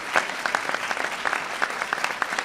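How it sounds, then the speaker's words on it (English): An audience applauds Charlotte Moser of a children's hospital vaccine education center during a political speech. Brisk, dense clapping from a large crowd, with individual sharp claps popping out of the steady mass, heard alone without voices. "You can clap for Charlotte, that's okay."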